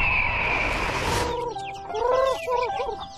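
Chickens cluck in an animated village scene, a run of short, close clucks following a brief noisy rush, repeated in quick irregular bursts.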